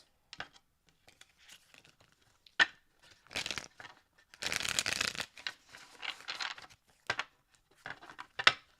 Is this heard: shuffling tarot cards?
yes